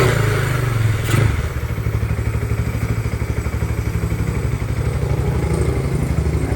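A 240cc Bajaj Pulsar NS200 motorcycle engine runs steadily close by, giving a loud, rapid, even exhaust pulse with a brief thump near the start and faint clatter over the idle.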